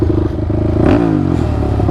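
A built Honda TRX450R ATV engine revving, a rough clattering idle that climbs sharply in pitch in one quick rev before settling back, close and loud.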